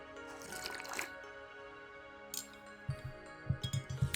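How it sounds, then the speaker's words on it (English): Someone drinks water: quiet liquid sounds and a short run of soft rhythmic gulps near the end, close by, with no talking. "Let me drink some water"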